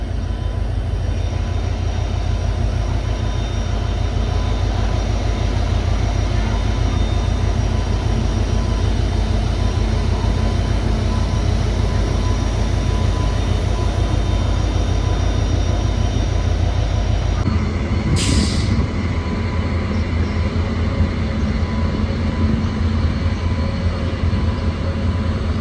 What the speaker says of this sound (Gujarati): જો તો ગાઈસ તમે જો ટ્રેન જાય છે